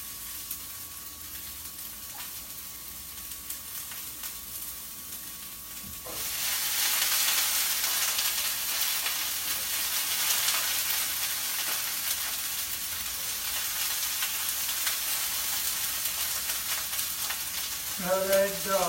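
Broccoli hits hot oil in a pan of shirataki keto noodles with zucchini, ginger and chili, bursting into a loud, steady sizzle that keeps hissing while the vegetables are stirred, with a brief clatter near the end.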